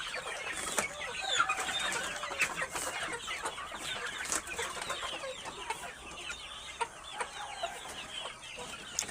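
Layer hens on a poultry farm cluck and squawk as they are carefully moved, a dense, busy chorus of overlapping calls with scattered louder squawks and handling clatter throughout.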